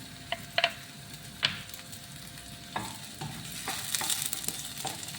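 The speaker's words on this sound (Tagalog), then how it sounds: "medyo nag-brown na yung ating corned beef. Ayan, habang nagluluto" Imported corned beef with onion frying in a pan: a steady close sizzle with scattered scraping and stirring clicks from a utensil, with no voices.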